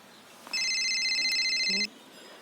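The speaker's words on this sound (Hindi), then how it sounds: "ई केकर फिर फोन आ गइल।" An electronic phone ringtone trills steadily for just over a second, a bright repeating warble against a quiet room.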